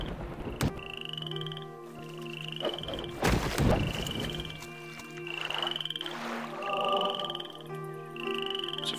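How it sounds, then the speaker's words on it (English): A frog in a swamp in the Mask of Eternity video game croaks in repeated, evenly spaced pulses. The croaks are fairly faint, broken by a brief burst of noise near the middle. "I know it was probably just an innocent frog that I exploded"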